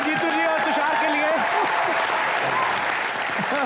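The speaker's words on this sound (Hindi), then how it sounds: "एक बार जोरदार तालियां जीतू जी और तुषार के लिए।" A studio audience at a comedy show applauds loudly for Jeetendra and Tusshar, with dense continuous clapping and cheering while a host's voice carries over it throughout.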